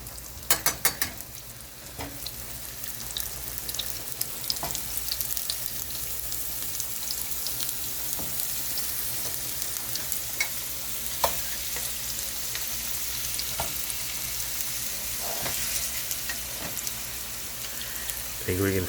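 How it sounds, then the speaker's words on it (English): Potatoes sizzle and fry in a hot pan, a steady crackling hiss punctuated by sharp pops and spatters, close and continuous for the whole stretch with no voices over it. "We're going to throw potatoes in. We're going to let them sizzle and fry."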